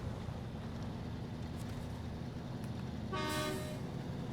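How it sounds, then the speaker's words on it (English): A truck horn in the SnowRunner video game gives one short tonal honk of about half a second, over a steady background of wind-like engine rumble. "clicking the left stick button will honk your horn"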